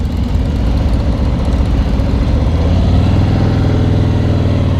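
A 2017 Harley-Davidson Road King Special motorcycle with a Milwaukee-Eight engine runs at a steady, loud, deep idle heard up close, with a low pulsing throb and no talk.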